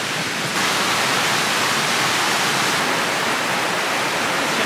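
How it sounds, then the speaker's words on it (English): River rapids at Parc Calon Lan rush in a loud, constant broadband roar of churning water, close and unbroken, with no voices. "Look at some rapids."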